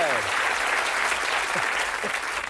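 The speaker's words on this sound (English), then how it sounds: "Give them a nice round of applause" A game-show studio audience applauds the contestant couples, a dense, steady wash of clapping that stays even and full throughout.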